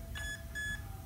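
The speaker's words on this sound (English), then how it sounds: "The motor will beep twice." Two short electronic beeps, evenly spaced, from the motor speed controller of a Traxxas Slash 2WD RC truck, clear and close against a faint steady hum.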